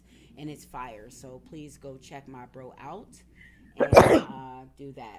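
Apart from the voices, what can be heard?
sneeze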